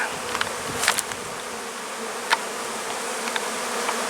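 Honey bees buzz around a hive landing board as they come in carrying pollen, with steady close insect hum and a few brief louder passes near the entrance.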